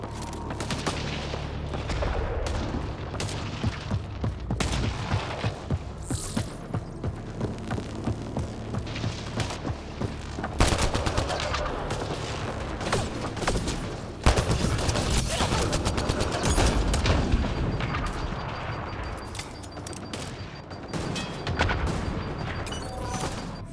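Sustained gunfire in the video game Mass Effect Andromeda, rapid bursts of shots and booms over a throbbing hum, continuous and dense throughout.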